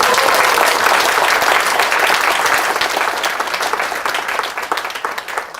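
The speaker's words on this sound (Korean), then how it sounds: "박수 한번 보내주세요." Loud, dense audience applause fills a political lecture hall, sustained throughout and thinning slightly toward the end.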